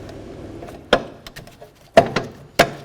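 Brake caliper of a 2007-12 Volvo S40 slid over the rear brake pads, heard as a few sharp close metallic clacks and knocks with small rattles between, no talking.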